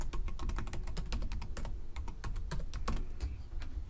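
A password is typed on a computer keyboard, a quick irregular run of sharp key clicks, close and clear with no talk.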